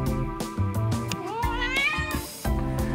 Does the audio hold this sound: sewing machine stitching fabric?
no